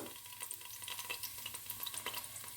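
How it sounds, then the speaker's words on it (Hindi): Onions sautéing with garlic in a pan, a soft sizzle with quick clicking stirs and scrapes, faint and close with no talking. "इसमें मैं प्याज डाल के बस इसको मैं सौते करूँगी"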